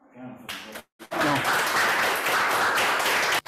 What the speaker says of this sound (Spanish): Me aplaudo